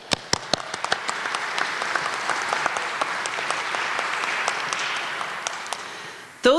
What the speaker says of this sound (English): So big round of applause to you.